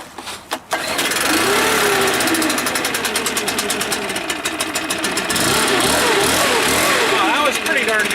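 A backpack leaf blower's small two-stroke engine takes a few quick pull-cord tugs, then catches and runs at a loud, steady, buzzing idle close by.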